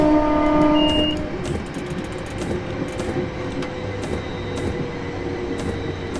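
A London Midland passenger train rolls along the Trent Valley line on a winter run in Train Simulator 2018, a steady low rumble of wheels and motors with a short two-tone horn blast near the start before the drone settles.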